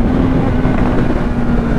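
A Honda CB1000 motorcycle engine running as a loud, steady, close drone with a constant low hum, heavily buffeted by wind noise.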